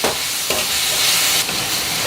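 Chopped tomatoes hit capsicum frying in a kadai for kadai mushroom and are stirred through, making a steady bright sizzle with a few soft scraping surges of the spoon, close by and with no talking.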